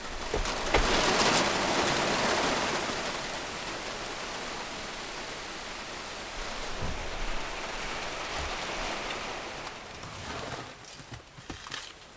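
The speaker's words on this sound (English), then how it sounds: "it's just started raining again" Steady rain hisses and patters on surfaces close by, a dense continuous wash that eases slightly toward the end, with a few heavier drops.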